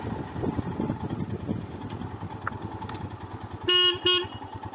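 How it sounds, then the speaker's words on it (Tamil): Motorcycle horn on arrival home: two short, bright honks near the end, close and loud, over a low idling engine. "ஹாரன் அடிச்சுக்கலாம், எல்லாரும் வருவாங்க."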